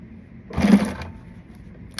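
A sewing machine whirs briefly when its foot pedal is accidentally pressed, a short half-second burst of motor and needle noise rising from a quiet room and stopping abruptly.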